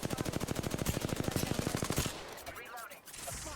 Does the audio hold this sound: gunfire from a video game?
yes